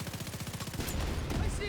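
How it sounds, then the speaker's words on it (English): Grenade launcher fired blind in a military video game, a fast burst of about a dozen rhythmic thumping shots, then a denser, louder roll of gunfire and explosions. "Blind firing a grenade launcher is, I feel, pretty special thing to do."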